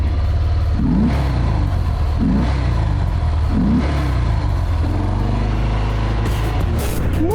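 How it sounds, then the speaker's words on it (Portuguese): A 2020 Harley-Davidson Fat Bob 107 rumbles loudly with a deep, heavy idle, revving up in several surges that rise and fall, close and continuous with no talking. "Vem na minha garupa ouvindo o ronco desta moto,"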